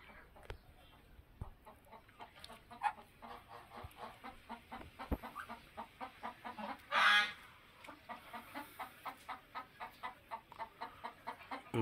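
Ducks quacking and clucking close by in a steady, repeated series of short calls, with a brief louder burst of noise partway through; no talking.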